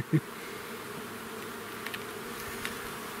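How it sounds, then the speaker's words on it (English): Honey bees in an opened, queenless hive hum as a dense, steady buzz close by, with a brief knock at the start and faint scattered clicks. "There's a lot of bees in here"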